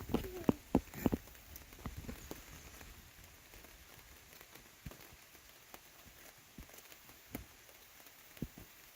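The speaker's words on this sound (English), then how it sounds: "We'll say it's still raining, but it's not pouring" Rain patters softly over a family campsite at night, with scattered drops tapping nearby surfaces. A few louder knocks and faint movement sounds come through over the quiet, steady hiss.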